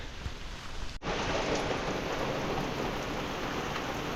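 Steady heavy rain pours throughout, with a sharp thunder crack early that gives way to a continuous rumbling roar.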